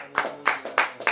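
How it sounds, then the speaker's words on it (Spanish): Congregation clapping in a church service, a few sharp, evenly spaced claps about a third of a second apart, moderately close and with no voices over them. "Un aplauso al Rey de Reyes"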